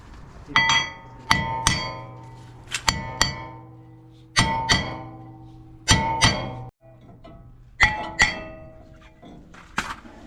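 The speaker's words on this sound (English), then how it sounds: "we're just going to go ahead and hammer them off" Heavy metallic hammer blows knock a front brake rotor off a 2011 Toyota Tacoma, striking in pairs and small clusters, about a dozen in all, each ringing briefly before the next, close and loud.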